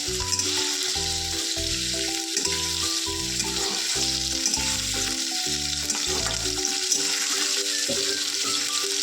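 Frying in a pan while making a Bengali home-style egg curry with shahi garam masala, a constant near sizzle under steady rhythmic music, with no one speaking.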